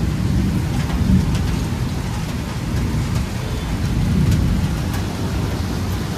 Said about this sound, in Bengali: কিন্তু বৃষ্টি এত তোড়ে পড়ছে মনে হয় না খুব তাড়াতাড়ি বন্ধ হবে বলে।